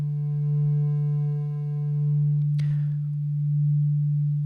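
A steady sine wave tone from Ableton's Wavetable synth hums alone at moderate level with a faint slow swell, a thin upper layer cutting off partway through with a brief noisy click.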